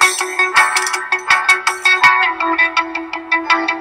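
Layered Apple Loops in GarageBand play a bright, synthetic electronic pattern, with rhythmic pulsing chords over a steady sustained tone, loud and alone.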